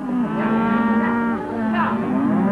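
Cattle on Easter Island in 1966 low in a long, sustained moo with a steady drawn-out tone, followed by another rising call, close and fairly loud.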